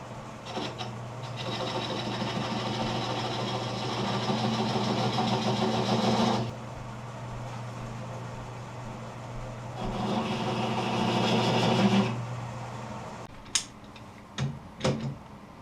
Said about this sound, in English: I'll clean it up with a detail spindle gouge.